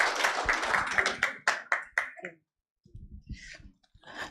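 Clapping from a few people at a healthcare report launch in Nigeria, sharp close claps that break off into near silence, then a brief return of scattered claps.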